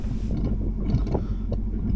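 Sailboat engine running in ahead gear while tied at a dock, a low steady mechanical rumble, fairly quiet, with faint knocks and wind over it.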